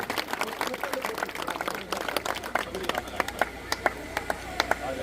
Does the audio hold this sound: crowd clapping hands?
yes